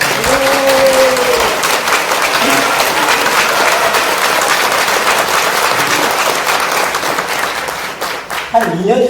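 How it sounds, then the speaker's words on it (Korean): A large indoor audience at a Korean film screening event breaks into loud, sustained applause, dense clapping that holds steady for several seconds before tapering off near the end. "큰 박수 한번"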